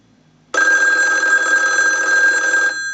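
A Western Electric AT&T 554 rotary wall telephone bell rings loudly for about two seconds, one sustained metallic trill that starts abruptly and then stops.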